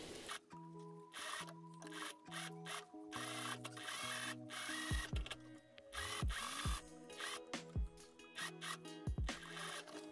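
A sewing machine with a zipper foot stitches a zipper into beaded fabric in short mechanical bursts of rapid stitching, stopping and starting repeatedly with small clicks between runs.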